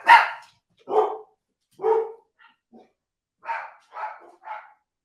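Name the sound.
dogs barking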